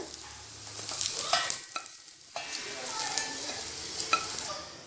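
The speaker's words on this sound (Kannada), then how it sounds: "ಜೀರಿಗೆ ಎಳ್ಳು 2 ಸ್ವಲ್ಪ 1-2 ಸಾರಿ ಅಲ್ಲಾಡ್ಸಿದ್ಮೇಲೆ ಜೀರಿಗೆ ಗಸಗಸೆ ಹಾಕ್ರಿ" Cumin, sesame and poppy seeds stirred and toasting in a pan give a steady dry crackle and scraping sizzle, with sharper spatula clicks scattered through and a short lull midway.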